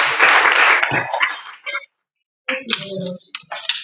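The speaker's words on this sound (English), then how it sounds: "Please give him a round of applause." Applause from the audience at a National Board for Technology Incubation press conference, a dense wash of clapping for about a second and a half that thins out and stops, followed by silence and then scattered clinks and voices.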